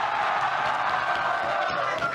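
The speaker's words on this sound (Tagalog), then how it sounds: "Grabe yung crowd eh." A crowd at a rap battle cheering and clapping, a thick, sustained roar of voices and applause filling the space, loud and unbroken, with a voice faintly audible within it.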